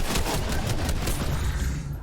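Gunfire in the video game Fortnite: a rapid volley of loud, close shots crackling across two seconds, each burst punchy and overlapping, with no talk.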